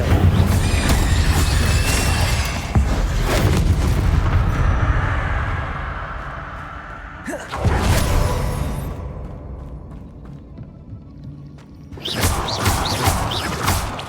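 Incendio fire spell in Hogwarts Legacy burning spider egg sacs, loud whooshing and roaring bursts of flame with crackling, three separate surges of burning with quieter decaying stretches between them.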